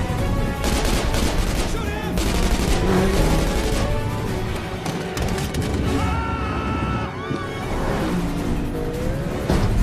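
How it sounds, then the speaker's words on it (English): Rapid gunfire is aimed at a car during a movie chase scene, mixed with engine roar and passing-vehicle whooshes. The dense, loud action soundtrack carries voices in between. "The two Jamets, who were getting overwhelmed, decided to shoot at Frank's car"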